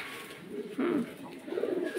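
Pigeons kept for sale coo softly nearby, a few low rolling calls rising and falling over a quiet background.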